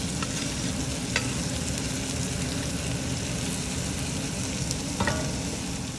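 Vegetables frying in a pan with a sprinkle of salt for chicken and dumplings give a steady, dense sizzle throughout, with a few faint clinks of a utensil stirring now and then.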